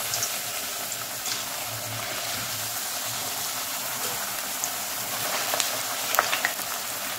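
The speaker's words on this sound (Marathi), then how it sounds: "आता चिप्स तळून घेऊ।" Potato chips frying in hot oil over a high flame give a steady, broad sizzle that holds evenly throughout, with occasional faint bubbling pops and no voices.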